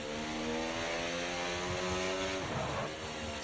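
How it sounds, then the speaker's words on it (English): A Formula 1 car in the F1 24 racing game on PS5 screams loudly and steadily at high revs, its engine tone holding then dropping sharply near the end as it goes off the track, with no talk. "this car is loud"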